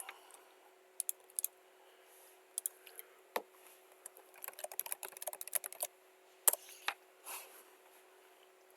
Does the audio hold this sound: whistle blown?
no